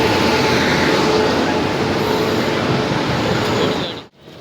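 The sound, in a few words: train arriving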